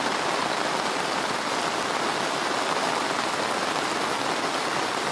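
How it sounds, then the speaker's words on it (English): Heavy rain pours down steadily over a village, a dense, constant hiss of water falling close by and drumming on surfaces, with no voices. "This is how it's raining in the village."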